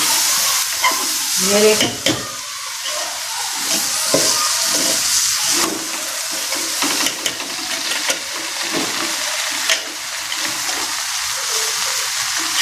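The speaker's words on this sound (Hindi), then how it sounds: "ये हम ज़रा सा पानी डालेंगे, दोबारा इसकी भुनाई करेंगे अच्छी तरह।" Dal and rice roast in a pot with a splash of water, hissing and sizzling steadily while a spoon stirs and scrapes close by, and a voice speaks briefly near the start.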